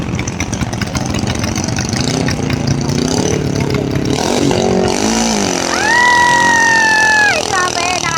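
A racing outrigger boat engine drones loudly and steadily during a local boat race, its pitch wavering as it strains, while people shout and talk over it.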